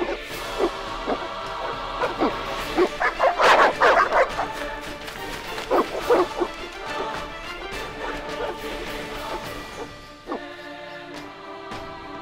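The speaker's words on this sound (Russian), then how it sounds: "Злые собаки." Dogs bark and yip repeatedly in The Witcher, loud and close with bursts of overlapping barks over a musical score, fading at the end.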